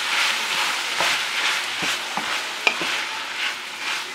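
Black beans and salsa stirred in a hot pan, a soft steady sizzle with several scraping strokes of a utensil against the pan, close and without talk.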